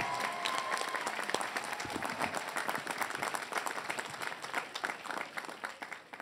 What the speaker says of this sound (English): I ask the class of 2022 to give them a round of applause.